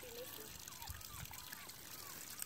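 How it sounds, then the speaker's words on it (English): A steady, faint trickle of water running down a hillside by a beach, blended with soft wind and background hiss. "Water coming out of the hillside, running down"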